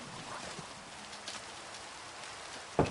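Rain falls steadily in the Minecraft video game, a soft, even hiss that runs the whole time. A single sharper, louder knock sounds near the end.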